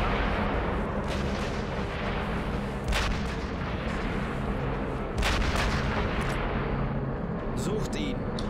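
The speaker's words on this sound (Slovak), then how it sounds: "napriek tým výstrelom z toho dela si to ako keby všimli" Cannon fire in the Sniper Elite V2 video game: two heavy booms a couple of seconds apart, fairly distant, ringing out over steady background noise, with someone speaking Slovak over the gameplay.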